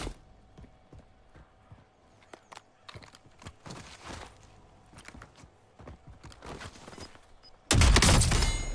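Sniper gunfire in a battle royale video game: scattered sharp cracks and thuds with footstep-like clatter throughout, ending in a sudden loud, sustained blast of gunfire.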